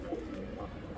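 Pigeons at a breeder's loft offering young Damascene, Budapest, Gorra, Giribaz and racer birds, one soft low cooing call close by against a steady murmur of background noise.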